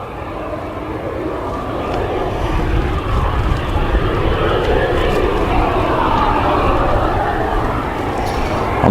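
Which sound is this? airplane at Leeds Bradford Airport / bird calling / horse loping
airplane at Leeds Bradford Airport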